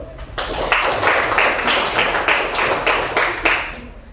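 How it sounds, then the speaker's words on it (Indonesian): A class of schoolchildren claps in unison, a loud, close rhythmic pattern of about a dozen sharp, evenly spaced claps that ends in a brief trailing fade. "Kita tepuk tangan dulu."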